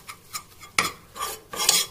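A utensil stirs flour in a pan for white sauce, with three distinct scraping strokes and light metallic clinks against the pan and quiet pauses between them.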